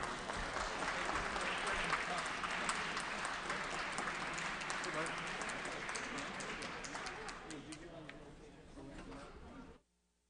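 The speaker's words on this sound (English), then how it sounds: "give them a round of applause and welcome them" Members of a state legislature applaud guests during an assembly floor session, a dense, sustained round of clapping that fills the chamber for about ten seconds before tapering and stopping abruptly near the end.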